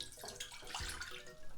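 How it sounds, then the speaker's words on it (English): A cup of water is poured into a cooking pot in a home kitchen, a brief, quiet splashing trickle lasting little more than a second. "So in a pot, I'm going to put a cup of water."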